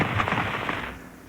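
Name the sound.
grenade explosion in TV show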